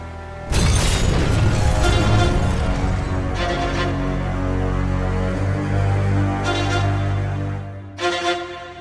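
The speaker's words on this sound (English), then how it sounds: "With one last explosion, the Batsuits began to melt." A loud, sustained explosion from an audio drama, the blast that melts the Batsuits, roars with dense rumbling debris for several seconds, then breaks into a couple of shorter bursts as it fades.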